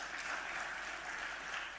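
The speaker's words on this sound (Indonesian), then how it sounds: "Tepuk tangan buat kita." A congress audience applauding, a dense steady patter of clapping hands filling the whole short moment.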